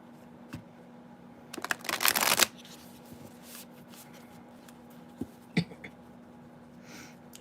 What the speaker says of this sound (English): You see me shuffling.